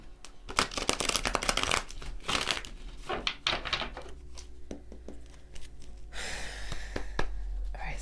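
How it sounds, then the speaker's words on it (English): Tarot cards riffle and flutter in quick bursts, close and crisp, with soft rustling and handling between shuffles. "One more shuffle and we'll get on with it"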